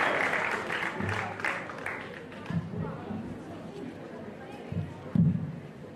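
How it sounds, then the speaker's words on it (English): Applause from an audience at a college entrepreneurship summit, steady and fairly loud at first, then tapering into scattered claps with a few louder bursts, as a keynote speaker is welcomed on stage. "Everybody, once again, please give it a good round of applause."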